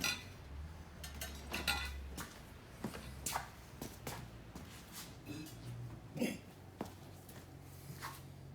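A spatula scrapes coconut pulp out of a PURE Juicer, giving a run of close, irregular clinks, knocks and scrapes against plastic and metal parts, with soft thuds in between.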